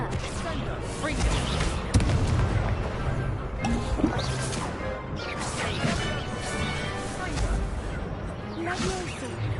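Confringo blasting spell cast in Hogwarts Legacy, repeated explosive crashes and whooshing impacts amid chaotic combat effects, with a voice speaking over the fight.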